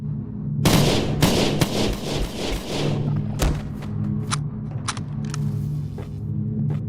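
Automatic gunfire in a video game as a full magazine is emptied in a long rapid burst, followed by a few scattered single shots and thuds, loud and close.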